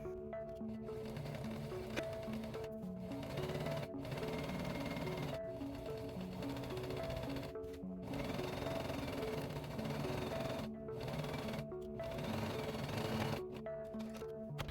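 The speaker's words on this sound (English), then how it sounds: "We're going to be sewing these two ends together." A sewing machine stitches the two ends of a skirt's fabric together, whirring steadily in long runs. The runs are broken by short stops and restarts.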